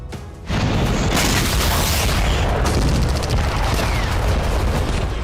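An explosion from an attack on a military base headquarters erupts suddenly into a loud, sustained roaring blast. The rumble lasts several seconds, with crackling debris-like texture.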